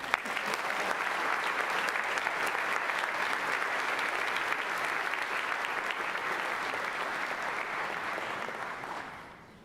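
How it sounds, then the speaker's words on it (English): Steady applause from an audience at a high school senior awards ceremony, a full, sustained roar of many hands clapping that holds evenly for several seconds before fading out at the end. "Please help me give Ryan a round of applause for all of his accomplishments."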